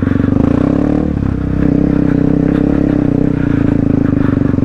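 A motorcycle engine runs loud and close with a steady, throbbing drone and slight rhythmic pulsing as the rider balances it over rough ground, with faint clatter underneath.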